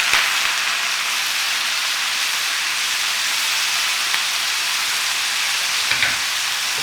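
Soy sauce hitting pork pieces in a hot pan for Bisaya-style humba, giving a loud, continuous, close sizzle with a steady hiss throughout and a few faint pops near the end.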